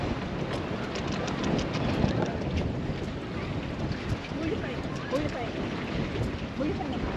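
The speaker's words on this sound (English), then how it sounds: "it is really windy out here." Strong wind gusting steadily across a fishing pier by the surf, a continuous loud broadband roar with microphone buffeting throughout and no clear voices.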